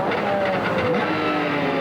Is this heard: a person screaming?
no